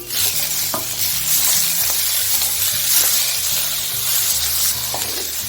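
Tomatoes stirred into browned onions frying in a pan for chhole masala, a steady loud sizzle with a scraping spatula and low clinks running throughout, no voices.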